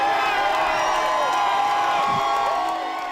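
An outdoor crowd at a protest rally cheers and whoops in a loud, sustained roar that holds steady before easing slightly at the end.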